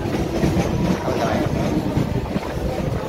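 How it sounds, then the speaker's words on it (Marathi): Inside a moving passenger train, a loud steady rumble and rattle runs throughout with wind buffeting, and no clear speech. "आपण ट्रेनमध्ये बसलो आहे"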